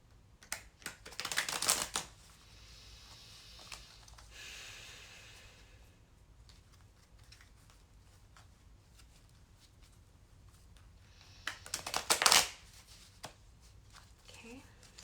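Reading cards being shuffled, two distinct bursts of riffling near the start and again later, with quiet rustling and faint background between them.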